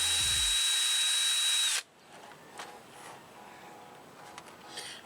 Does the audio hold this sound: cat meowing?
no